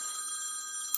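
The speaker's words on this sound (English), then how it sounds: "Somebody's trying to FaceTime me." A FaceTime incoming call ringtone, a sustained bright electronic tone with steady high harmonics, heard alone and fairly close.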